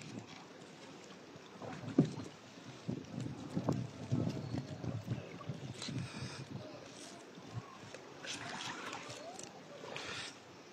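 A boat moves through floodwater in Bangladesh on a relief trip, with soft water sloshing and knocking under the hull, occasional thumps and wind, and faint voices around.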